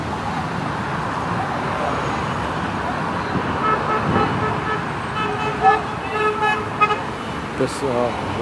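Car horns toot repeatedly in street traffic during a demonstration in the capital, in a crowd gathered with a big banner for President Lula. The short honks grow more frequent over steady road noise, and voices are heard nearby.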